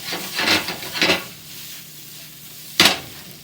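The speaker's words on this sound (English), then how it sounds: "Ooh, I made that fun sizzling noise." Vinegar splashed into a hot pan of Brussels sprouts gives a sharp hiss that surges twice and fades, then one short loud burst of sizzle near the end, with quieter pan noise in between.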